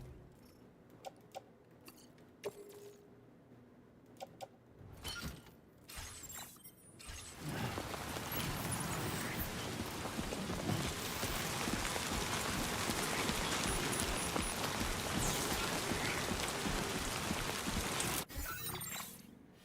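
Rain falls outdoors. Scattered faint ticks give way to a steady, dense hiss of rainfall that holds for most of the stretch before cutting off abruptly near the end, with no voices.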